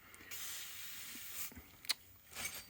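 A can of WD-40 lubricant sprays in short, quiet hissing bursts while a Jaguar XJS V12 cylinder head is being rebuilt, with a small clack partway through.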